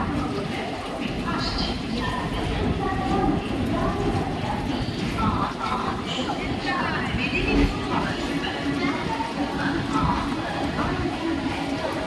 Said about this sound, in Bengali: আমাদের ট্রেন এখন খড়গপুর স্টেশনে ঢুকছে